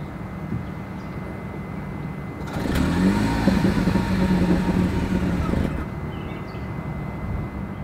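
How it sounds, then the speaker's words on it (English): A 2023 Toyota Prius hybrid engine starts up and runs at a low, steady idle for a few seconds, then drops back to a quieter background hum. "here is that. I won't call it an exhaust clip, but a startup."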